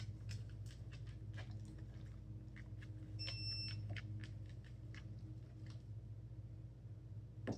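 A dog training collar gives a single short high-pitched beep as a recall cue, lasting under a second over steady low background noise.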